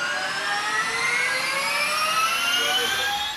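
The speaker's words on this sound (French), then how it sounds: "Le vacarme ici ne vient pas de la génératrice. Il vient de la boîte de vitesse qu'on a dû ajouter pour la circonstance." Loud, steady whining drone of the gearbox added between an electric car and a generator, rising tones sliding gradually upward in pitch throughout, close and continuous with no talk.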